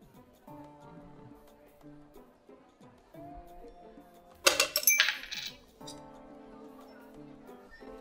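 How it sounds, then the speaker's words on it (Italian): A coin drops into a glass during a bar trick, a loud bright clatter and ringing burst midway through, with quiet background tones before and after. "Devi far entrare la moneta nel bicchiere"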